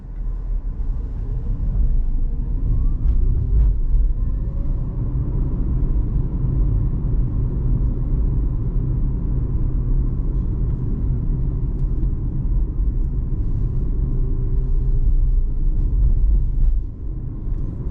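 A 2023 Dacia Spring Extreme electric car, 65 HP, drives at night in normal mode, a steady low road and tire rumble filling the cabin with a faint rising electric whine, no talk.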